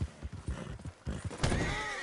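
A horse gallops in the video game Red Dead Redemption II, with dense, rapid hoofbeats and a brief whinny near the end, loud and close with no talking.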